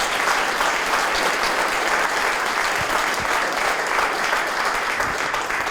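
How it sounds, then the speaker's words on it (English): Steady applause from an audience at an evening museum event, a dense even clatter of many hands clapping that fills the room for several seconds without pause. "So clap for her again."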